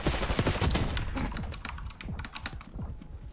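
Rapid gunfire from Call of Duty: Black Ops 6 crackles in quick bursts of sharp reports, loud at first and then thinning into scattered shots.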